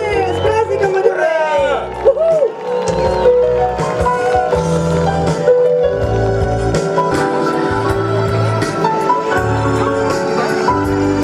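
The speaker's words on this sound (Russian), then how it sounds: "Приветствуем наших героев громче, бурные аплодисменты" An outdoor crowd at an Airborne Forces Day celebration in Kortkeros cheers and whoops. A loud announcer talks over the steady crowd noise throughout.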